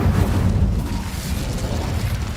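Spell-casting explosion in a Hogwarts video game: a sustained loud rumbling boom with heavy low-end roar, continuous and close with no talking.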